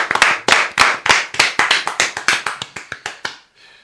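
A single person claps by hand about fifteen times in a steady, close rhythm, each clap sharp and distinct, slowing and softening slightly toward the end before stopping.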